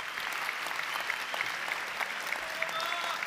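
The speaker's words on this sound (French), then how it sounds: "On peut les applaudir une nouvelle fois quand même." A hall audience at a bachelor's graduation ceremony applauds the prize winners again, a dense, even wash of clapping from many hands that holds steady and fairly close throughout.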